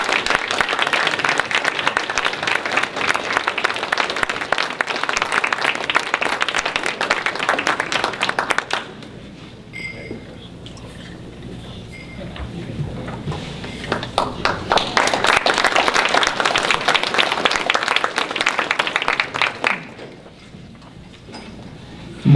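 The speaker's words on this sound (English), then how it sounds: "One more round of applause" Audience applause at a New Hampshire legislative awards gathering comes in two loud, dense bursts of clapping, separated by a quieter stretch where a voice speaks over a murmuring room, then tapering off.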